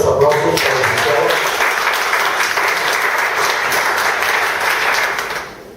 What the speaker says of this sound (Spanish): Por favor, fuertes aplausos para el licenciado.